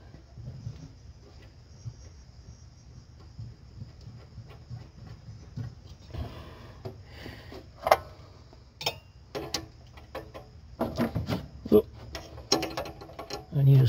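A ratchet socket wrench clicks in quick ratcheting bursts while being worked on a gas tank fitting, soft at first and then louder, sharper clicking runs in the second half.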